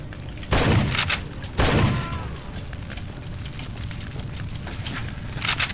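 Shotgun fired in Far Cry 2: two loud, heavy booms about a second apart, each with a short decaying tail, followed by quieter ambient game noise.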